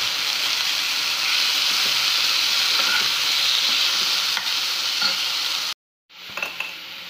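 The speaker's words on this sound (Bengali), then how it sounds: "এখন আমি এই মাংসটা একটু ফ্রাই করে নেব" Chicken pieces frying in about two spoons of oil, stirred in the pan, give a loud, steady sizzle with scraping spoon strokes. The sound cuts out briefly near the end, then the sizzling resumes more quietly.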